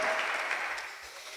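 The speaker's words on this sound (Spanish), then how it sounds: "¿Cuántos damos aplausos al Señor?" A church congregation claps, a dense steady patter of applause that fades slightly over a brief moment.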